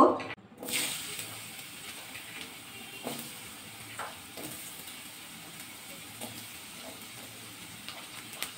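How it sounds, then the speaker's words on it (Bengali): Potatoes fry lightly in hot mustard oil in a wok, a soft steady sizzle with occasional scraping stirs and small clicks, fairly quiet and close. "প্রথমে আলুগুলো দিয়ে দেবো, দিয়ে হালকা ভাজা করে নেব।"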